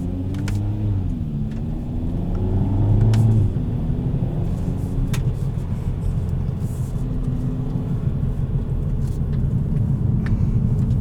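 A 2020 Kia Forte GT with a 7-speed dual-clutch automatic drives along, its engine a steady low rumble with gear-shift swells and constant road noise from inside the car, no talking.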